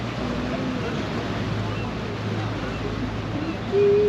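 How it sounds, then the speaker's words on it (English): A small speedboat passes on the sea off Whitby, its engine a low droning hum carried over constant wind buffeting and wave wash, heard from the deck of a larger coastal cruise boat, with a brief tone near the end. "Look at that little speedboat."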